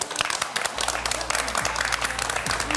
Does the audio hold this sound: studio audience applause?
yes